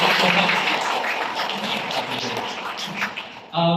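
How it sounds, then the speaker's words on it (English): At a health day community service event, an audience gives a round of applause, fairly soft scattered clapping that fades gradually, with a voice briefly heard at the end. "let's give them another round of applause"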